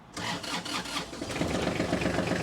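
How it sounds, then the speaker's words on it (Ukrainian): A Kubota GL26 tractor's diesel engine cranks briefly and catches almost immediately, settling into a steady, rattling idle close by. "Заводиться трактор з пів оберту"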